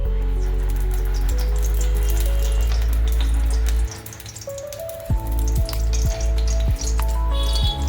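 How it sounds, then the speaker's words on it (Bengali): Ghee sizzles in a hot kadai on a gas stove, a loud hissing crackle that drops away midway and then returns with sharp pops and splutters. "এবার কড়াই গরম হয়ে গেছে, ওর মধ্যে আমি ঘি দিচ্ছি।"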